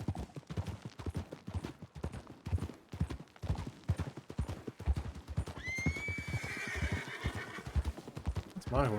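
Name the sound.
horse neighing and hooves in video game Red Dead (WildRP)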